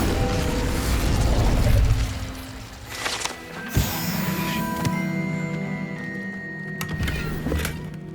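Incendio fire spell cast in Hogwarts Legacy, a short whooshing burst with a low thump near the middle, set against a busy bed of game ambience and mechanical clatter, with no talk.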